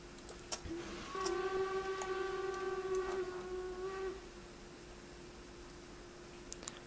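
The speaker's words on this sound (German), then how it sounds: "Die Lok bewegt sich doch noch." A steam locomotive in the Train Simulator 2017 video game gives a steady, sustained whistle-like tone lasting about three seconds, with faint ticks and clicks before and after against a quiet background.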